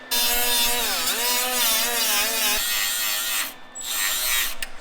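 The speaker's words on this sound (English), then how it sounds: "I'm just going to scratch the axle up a little bit where I painted" A power tool whines loudly and steadily, close by, as paint is scratched off a painted vehicle axle ahead of welding, with a pitch that shifts under load and a short pause near the end.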